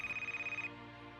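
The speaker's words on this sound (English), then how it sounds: "the phone rang" A telephone bell rings in a rapid, evenly pulsed trill for about two-thirds of a second, then stops and leaves a faint hum.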